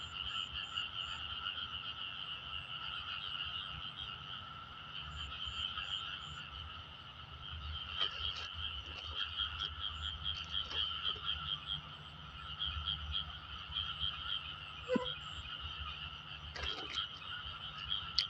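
Frogs croaking steadily after rain, a dense chorus with steady, high, ringing calls and a low rumble underneath, with no talking.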